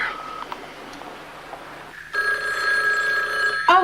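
A telephone rings with a steady electronic trill against a quiet room background, close and clear, starting after a brief pause.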